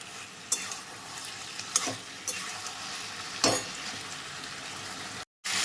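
Spatula stirs Malabar spinach curry with rohu fish head in a wok, a steady soft sizzle with a few sharp scraping strokes standing out, then a brief cutoff near the end.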